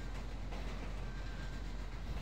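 A train rolls along the tracks in GTA V with a steady, fairly faint rumble and clatter under an even roar.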